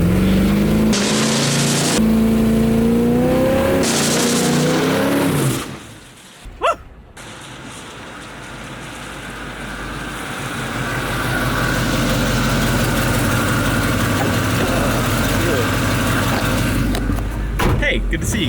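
A car with a non-posi-traction rear axle revs hard, spinning one rear tire. Voices talk over an idling engine at first, then a brief lull gives way to a loud, swelling roar of engine and tire noise that holds steady.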